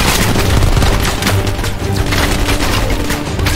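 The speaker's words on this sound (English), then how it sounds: "Fuck, grenade!" Grenade blast and a sustained rattle of gunfire in Call of Duty: Cold War on Hard difficulty, loud and dense throughout with layered shots and booming impacts.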